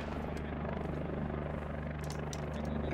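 Helicopter in the Squad military shooter game, a steady loud rotor thrum with a dense low-frequency chop filling the whole stretch, engine whine above, faint voices occasionally under it.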